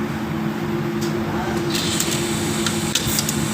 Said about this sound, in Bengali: দেখেন এখন কিন্তু ফোল্ডিং প্লেটটা কাজ করতেছে।